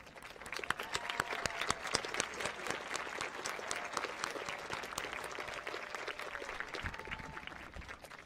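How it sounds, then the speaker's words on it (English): Audience applause at the Mt SAC 2023 Transfer Achievement Celebration, a steady, full burst of many hands clapping that holds evenly for several seconds, with faint voices mixed in. "Please give them a round of applause."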